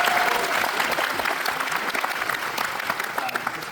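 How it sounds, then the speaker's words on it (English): A film festival audience at a Q&A gives the programming team a round of applause, with dense, steady clapping from a large crowd filling the hall throughout. "Can we get a round of applause for them?"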